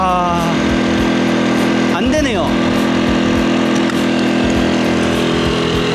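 An EcoFlow smart generator, a quiet remote-start unit, runs its motor while charging under load, producing a steady droning hum with harmonic tones and a brief sweeping whine; a voice talks over it.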